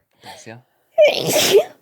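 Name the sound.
sneeze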